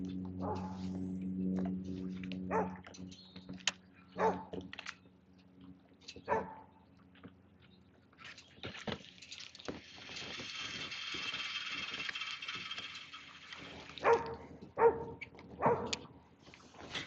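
A dog barks in short, scattered bursts beside a river during a fishing outing, mixed with the clicking ratchet of a reel being wound in, all fairly quiet and distant.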